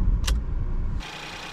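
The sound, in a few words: Ford Fiesta car engine starting and running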